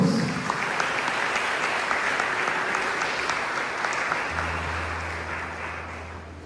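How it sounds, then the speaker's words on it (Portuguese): Church congregation applauding together during a Sunday service at a Presbyterian church, steady dense clapping filling the room throughout, gradually thinning toward the end with a low hum entering underneath. "Você pode aplaudir o Senhor Jesus?"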